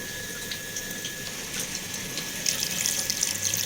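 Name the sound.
pouring boiling water into cooking pot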